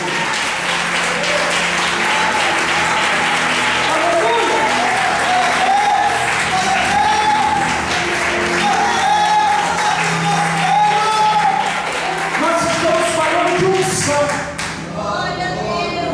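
A church congregation claps for the Lord during an evening service with a pastor, sustained dense applause for most of the stretch with music and voices underneath, tapering off near the end.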